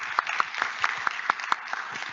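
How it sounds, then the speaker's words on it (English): A conference audience claps for panel speakers, sparse individual claps in a loose uneven rhythm, fairly close and moderately loud, without voices over them. "let's give them a round of applause"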